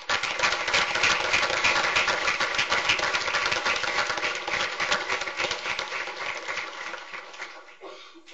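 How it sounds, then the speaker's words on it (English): Sustained round of applause from an audience at a school board meeting, honoring students, with dense steady clapping that fades toward the end. "Let's take a moment to give our students a round of applause for their heartfelt decorations in the boardroom"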